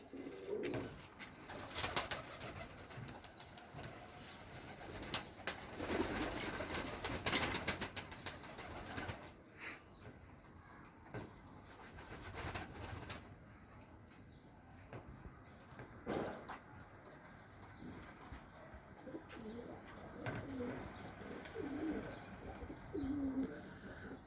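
Pigeons coo in soft, repeated throaty phrases at close range, in bursts separated by quieter stretches, with occasional faint chirps in the background.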